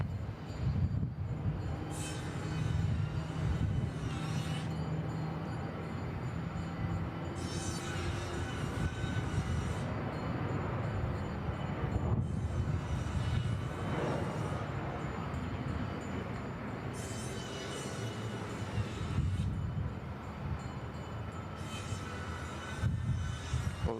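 A Boeing 787 makes a long, slow takeoff roll on the runway at Bangkok Suvarnabhumi Airport. A steady, heavy engine roar holds throughout, distant but strong, with no voices.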